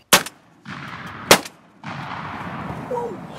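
Two loud, sharp shotgun blasts ring out about a second apart during a turkey hunt outdoors, each followed by a brief decay, then a steady outdoor background carries on.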